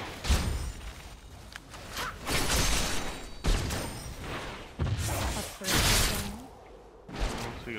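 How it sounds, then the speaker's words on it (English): A League of Legends turret breaks apart amid a string of heavy impacts, bursts and crumbling thuds, repeated loud hits separated by short gaps, with game effects layered throughout. "Your team has destroyed a turret."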